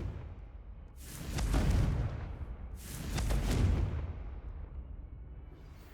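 Two deep, rumbling Confringo spell blasts in Hogwarts Legacy, each swelling and fading over about a second, loud and close and spaced about two seconds apart.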